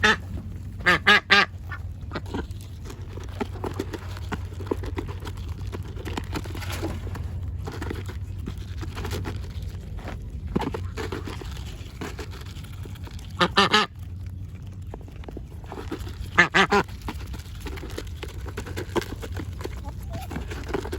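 Ducks quacking on a small farm with quail and rabbits, several loud bursts of close quacks and honks scattered over quieter yard ambience.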